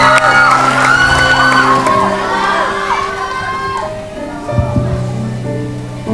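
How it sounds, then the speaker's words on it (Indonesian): Studio audience of an Indonesian reality TV show cheers and shouts for a contestant singer, loud whoops and yells with clapping that fade midway, followed by quieter murmurs and a brief burst near the end. "kita beri tepuk tangan saat meriah untuk Edu"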